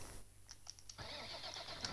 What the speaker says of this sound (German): So, jetzt werden wir den Motor starten.